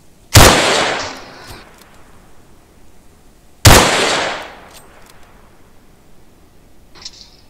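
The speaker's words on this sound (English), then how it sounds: "Whoa! Someone's shooting at me." Gunfire in the video game ARMA 3, with two loud, sharp shots several seconds apart, each followed by a long echoing tail and then near silence.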